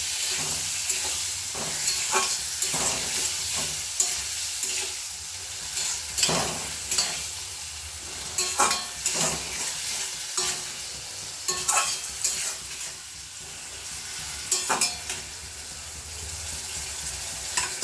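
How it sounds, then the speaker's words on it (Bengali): Potato and pointed gourd sautéing with a spice paste of green chili and tomato, a continuous sizzle broken by repeated scraping stirs of a spoon in the pan, close and alone. "মশলাটা দিয়ে আলু আর পটলটাকে ভালো করে কষিয়ে দিচ্ছি।"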